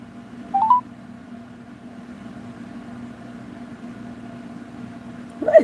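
A phone dials out to call someone back: a short cluster of touch-tone beeps near the start and another tone at the very end, over a steady low hum, close and clear with no talk.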